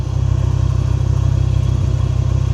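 Audi RS3 2.5-litre five-cylinder engine in a Skoda vRS, idling through a full custom exhaust with a deep, burbling note, steady and loud up close, no voices.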